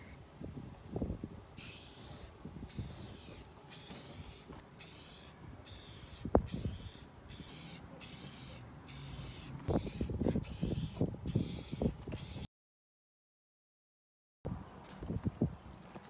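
Spray paint hissing out in short repeated bursts as a second coat of black goes onto a truck, each blast steady and close, followed by a brief silence and a final spurt.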